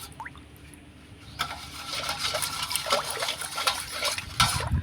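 Slaked lime is stirred into water in a bowl, giving soft sloshing and swirling liquid sounds that grow busier after a quiet start, close by.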